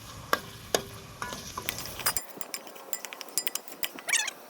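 Onions and tomatoes frying in a pan for spicy Maggi, with a loud sizzling hiss, then a run of sharp metal spatula clinks and scrapes against the pan, close and uneven.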